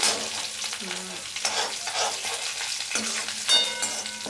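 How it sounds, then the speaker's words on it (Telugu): Curry leaves fry with tempering spices in hot oil for peanut chutney, giving a steady crackling sizzle while a spoon stirs and scrapes the pan. "కరివేపాకు వేస్తాం కాబట్టి నేనైతే ఒకసారి కలుపుతున్నాను"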